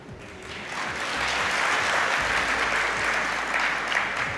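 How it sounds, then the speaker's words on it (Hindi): A large audience at a spiritual talk bursts into applause, dense crowd clapping that swells within the first second and then holds loud and even to the end. "अब आप लोगों ने ये तालियां क्यों बजाई हो मुझे बताएं"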